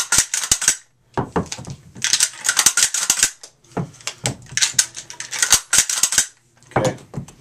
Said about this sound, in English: Bring the shells up like this. I'm going to roll them right into the gun.